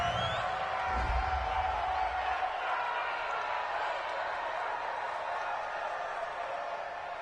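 A stadium crowd in Madden 20 reacting to a penalty call, a steady loud roar of massed voices that holds throughout and eases slightly toward the end.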